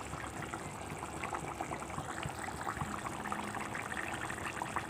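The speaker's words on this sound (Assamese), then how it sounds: "এইখিনি আৰু 5 মিনিট টাইম মই এনেকৈ উতলিব ৰাখি দিম" Singi fish curry with manimuni and bhedailota simmers in a pot, giving a soft, steady bubbling and crackle at low volume with no voices.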